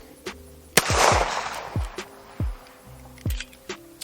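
A Dan Wesson Valor 1911 pistol fires at an outdoor range, several loud sharp reports spaced unevenly over a few seconds, with an echoing tail after the first blast.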